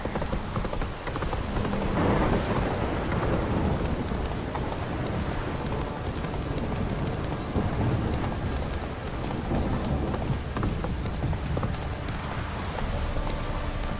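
Steady, dense rain pours with rumbling thunder in the video game The Witcher 3, with a constant loud downpour, low swelling rolls, and faint hoof clip-clop beneath.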